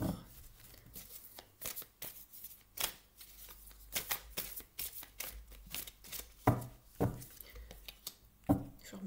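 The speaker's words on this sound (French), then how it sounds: "Je vais remélanger le jeu." A deck of tarot cards is shuffled by hand close up, with quick papery riffles and soft slaps arriving in uneven bursts.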